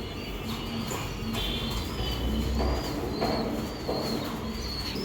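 Racing pigeons in a loft give low, soft coos over a steady background hiss, with several brief calls spread across the stretch.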